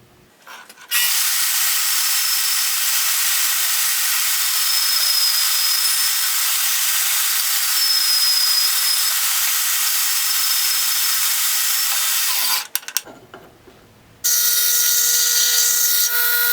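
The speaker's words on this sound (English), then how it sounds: "I'm going to go and do that on the bandsaw right now." Bandsaw cutting the outline of a metal guard for a V-42 combat knife, a loud steady high hiss and whine running continuously for about twelve seconds before stopping briefly and starting up again.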